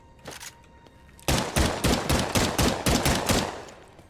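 Dual pistols fire in the video game Vampire: The Masquerade - Bloodhunt, a few scattered shots followed by a rapid run of about nine loud, sharp reports in quick rhythm.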